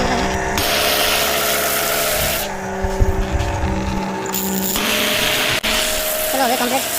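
Pressure washer motor hums alongside the hiss of a foam cannon spraying shampoo foam while a car is washed at home, steady and close with pauses and shifts, and someone talks over it.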